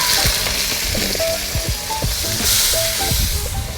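Steady oily sizzle of onions frying in a pan, with occasional scrapes and clinks of stirring, no voices.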